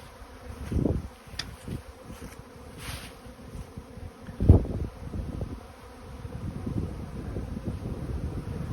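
Bees buzz close to the microphone, with loud individual passes swelling and fading against a steady hum of many insects and light wind noise.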